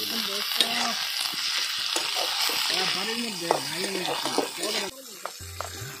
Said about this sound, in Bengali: হালকা আছে ফ্রাই করা হইতেছে, যাতে আদা রসুনের কাঁচা গন্ধটা জায়গা